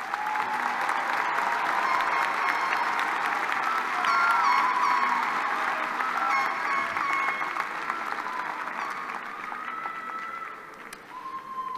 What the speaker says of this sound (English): Let us applaud these candidates from the Pamplin College of Business.